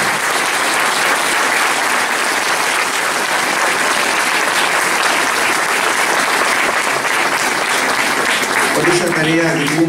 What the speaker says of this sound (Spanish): quienes se merecen un fuerte aplauso